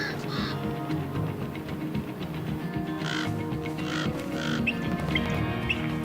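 A bird dive-bombs a much larger eagle in Yosemite, giving a few harsh, raspy calls over steady loud wind or rushing background noise, fairly distant.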